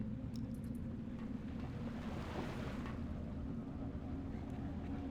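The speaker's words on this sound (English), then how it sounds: "There's water flowing under my feet." Water rushes steadily through a sewer in the video game Vampire the Masquerade: Bloodlines, a continuous low, hissing roar of flowing water that stays even and fairly faint throughout.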